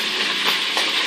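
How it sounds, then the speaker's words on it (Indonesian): Pieces of muscovy duck with curry spices frying in hot oil give a dense, steady crackling sizzle, close and fairly loud, with no pauses throughout the short moment. "untuk supaya lebih kering lagi bisa digoreng hingga berubah warna dan matang seperti ini"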